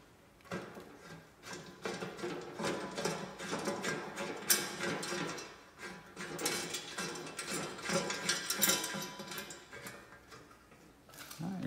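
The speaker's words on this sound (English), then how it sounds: "I'm using a 14 millimeter ratcheting wrench." A 14 mm ratcheting wrench tightens a 3/8 bolt with a lock washer on the spill tray of a bulk candy machine, giving bursts of close, quick ratchet clicks and small mechanical rattles.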